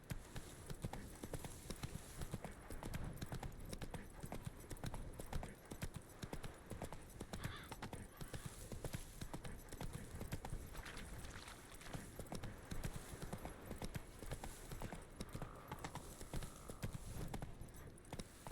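Roach the horse trots in The Witcher 3, with a steady, close, even clip-clop of hooves running unbroken for the full stretch.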